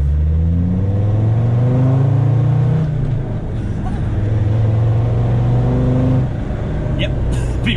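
A Land Rover Defender fitted with a new performance clutch and single mass flywheel accelerates hard on the road, its loud engine note rising and falling through gear changes as heard from inside the cabin.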